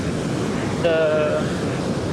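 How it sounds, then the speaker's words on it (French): Ocean waves wash steadily onto a beach in Brazil popular with surfers, a constant broadband roar with wind buffeting the microphone, joined briefly by a faint tonal sound partway through. "Ici, il y a beaucoup de vagues."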